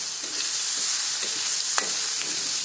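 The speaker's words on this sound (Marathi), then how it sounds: "आणखीन कांदा थोडा भाजू देते" Onions frying with spices and coriander powder in a pan for a tomato, onion and garlic chutney, a steady close sizzle with a few soft stirring scrapes and one sharper clink.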